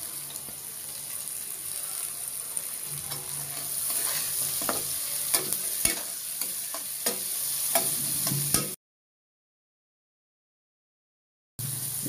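Winter vegetables, including potato and chopped flat beans, fry in a pan with a busy sizzle and repeated scraping stirs, then the sound cuts abruptly to silence for a few seconds before the sizzle returns.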